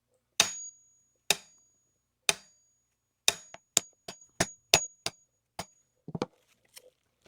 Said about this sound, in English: we'll use a hammer to put the caps back on